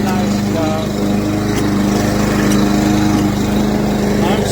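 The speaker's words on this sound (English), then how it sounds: "It is cutting the grass." A PowerSmart 21-inch gas lawn mower with a Briggs & Stratton engine cuts grass with a steady loud droning hum, near and continuous, while someone talks over it.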